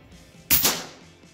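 A single sharp, close air-rifle shot from an FX Dreamline with a power plenum cracks once and decays quickly in a quiet setting.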